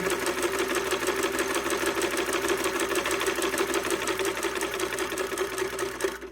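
A Davis sewing machine, driven by a foot pedal, runs steadily on its own with a fast, even mechanical clatter that holds its pace throughout, close and loud.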